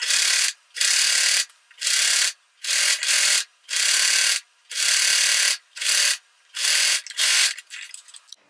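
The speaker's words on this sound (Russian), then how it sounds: "теперь здесь вот с изнаночной стороны еще раз прошью, чтобы швы вот эти все у меня остались внутри" A domestic sewing machine stitches a seam on fabric for a bed canopy, running in loud, steady bursts of rapid mechanical whirring with short pauses between runs.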